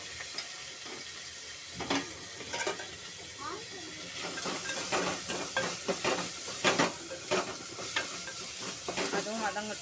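Chopped tomatoes sautéing with onion in a pan for Tamil paruppu kuzhambu, a steady sizzle punctuated by spoon stirring and scraping against the pan, close and moderately loud, with some talk over it.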